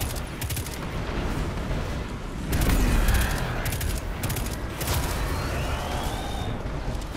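Rapid gunfire from the PC shooter Destiny 2, played as a Warlock, rattles in dense repeated bursts over a constant game backdrop, with one louder, heavier stretch in the middle.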